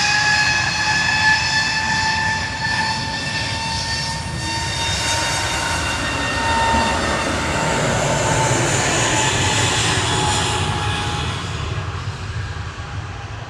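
Air France jet landing at Manchester Airport, a steady broad engine roar with faint high whine holding loud and near throughout, swelling slightly midway, with no talk.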